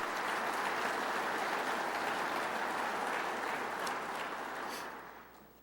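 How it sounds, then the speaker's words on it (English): A crowd claps at a fire school awards presentation honoring firefighters. The dense, steady applause holds at a moderate distance, then tapers off and fades near the end. "So let's give them guys one more round of applause,"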